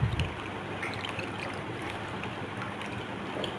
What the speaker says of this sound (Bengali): তো আমি এখন এগুলো ভালো করে ধুয়ে তুলে নেব।